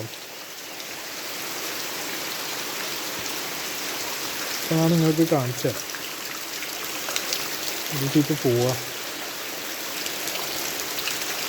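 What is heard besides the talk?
rain falling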